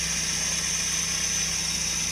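Small engine of a Suzuki Multicab mini van runs at a steady idle, a constant hum with a high whine above it, close and unchanging.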